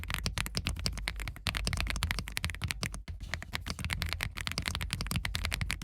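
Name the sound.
typing on an Owla mechanical gaming keyboard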